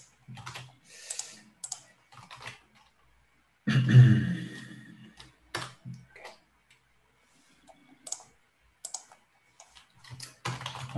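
Clattering keystrokes on a computer keyboard, irregular bursts of clicks with a denser flurry near the middle, close and fairly quiet with no talking.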